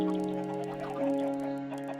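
Chickens in a farming video game cluck and squawk in a steady, overlapping flock chatter, fairly close and continuous, without any talk over them.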